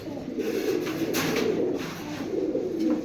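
A silver male pigeon coos in low, rolling phrases that swell and fade in a steady rhythm, close by and moderately quiet, with no voices over it.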